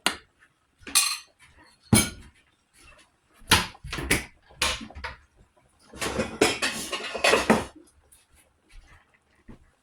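A pot lid and cookware clink and clatter around a pot of sour fish curry with fish heads. Sharp metallic knocks come in scattered bursts with quiet gaps between them, and one longer rattling cluster falls near the middle.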